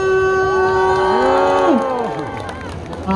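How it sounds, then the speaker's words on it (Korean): Crowd cheering and clapping at a street busking show by a Hongdae boy group in Seoul, with a singing or shouting voice riding loudly over the noise and then fading. "박수!"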